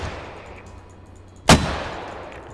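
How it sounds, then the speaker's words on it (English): A single mortar shell lands in the military shooter Squad as one sudden, sharp blast. Its rumbling tail fades slowly over quiet background ambience. "So we should have some mortars landing right on top of this thing or around it"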